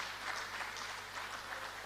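A faint, brief patter of applause comes from an audience at a hairdressing certificate launch, soft and distant, with no voices over it.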